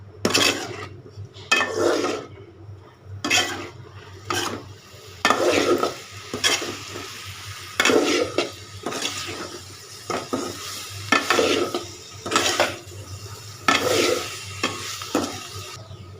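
Turmeric and chilli powder being sautéed for a tilapia curry with cauliflower and potato, a spatula scraping and clanking rhythmically against the metal pan in repeated bursts over a low sizzle.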